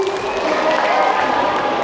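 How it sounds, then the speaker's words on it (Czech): Audience applause and crowd noise for contestants at a school talent show, a dense continuous wash of clapping sustained at steady loudness throughout. "ještě jednou potlesk pro naši jedenáctku"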